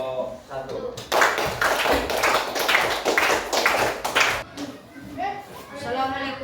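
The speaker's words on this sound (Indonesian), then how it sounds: "berikan aplaus dulu untuk kelompok 1" An audience applauds a presenting group at a teacher-training session in Takengon, the clapping swelling suddenly after a brief spoken line and holding steady for about three seconds before fading back into speech.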